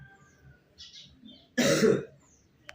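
A single harsh, throaty cough from a person with a cold, loud and close in a quiet room, preceded by faint soft sounds and followed by a small click.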